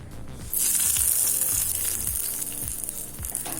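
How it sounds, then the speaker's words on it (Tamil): Mustard seeds and curry leaves sizzle loudly in hot oil while tempering a small-onion chutney, a sudden burst of crackling frying that settles into a steady sizzle with no talk. "இப்போ சட்னியை கடுகு கருவேப்பிலை போட்டு தாளிச்சிடலாம்"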